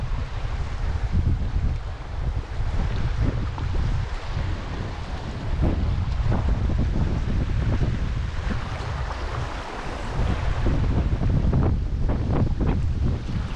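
Wind gusts roar across a microphone while canoeing down a river against the current, a loud, rough rush that swells and eases in waves, with faint water sounds beneath.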